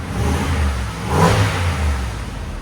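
A deep Ford Super Duty pickup's 6.2-liter V8 blips the throttle once, a short rev rising and falling over a low, steady idle.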